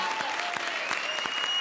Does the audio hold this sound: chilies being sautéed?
no